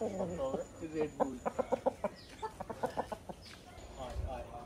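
Chickens cluck in a quick series of short, rhythmic calls, fairly close, over a faint background murmur.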